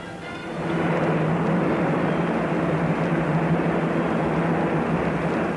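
An airplane passes overhead, its broad, steady roar swelling in within the first second and holding loud and constant.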